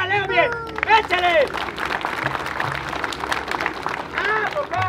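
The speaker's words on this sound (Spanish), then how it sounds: "¡Dame un aplauso" A live comedy show audience claps and cheers for a stage bit, a lively burst of applause with loud voices and shouting talk over it.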